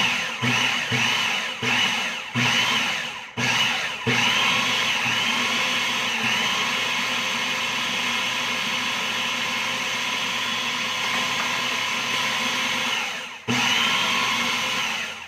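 A food processor pulses a broccoli patty mixture with breadcrumbs, whirring loudly in a few short bursts before settling into one long continuous grind that cuts off near the end.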